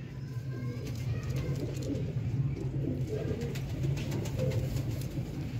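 Sialkoti pigeons coo softly and repeatedly, low throaty rolling calls layered over one another, with faint chirps and ticks in the background.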